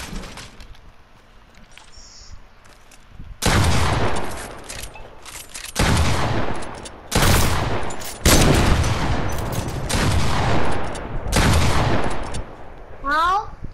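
Double legendary pump shotguns in the Fortnite video game fire in several loud, separate blasts after a quieter stretch, each a sharp boom spaced a second or two apart, with a reload-like rattle between shots.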